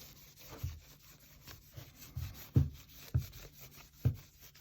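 Cloth rubbing and scrubbing over the cracked plastic CPU casing of a Jeep YJ, a soft close scraping texture broken by several short, louder rubbing strokes, no talking.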